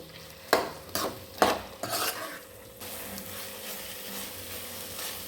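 A spoon scrapes and knocks against a pan while ground tomato paste is stirred into chicken gravy, giving a few sharp clattering strokes followed by a softer, steady sizzle of frying.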